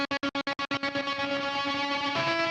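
Distorted electric guitar sample chopped by a rhythmic Gross Beat gate effect: about six sharp on-off stutters at the start, then the sustained chord rings out loud with no talking.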